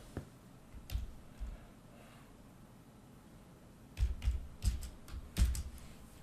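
Keys on a computer keyboard are tapped in a few sparse, soft clicks up close, then a quicker cluster of keystrokes near the end, all without any talking.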